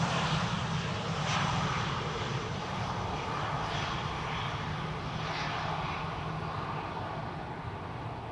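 LOT Embraer 175 or 190 jet airliner arriving over the Polderbaan runway, a steady broad engine roar that holds at a moderate distance throughout.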